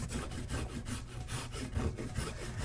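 Microplane rasp filing a prop part, a quick series of rhythmic scraping strokes, close and fairly quiet, with no voices.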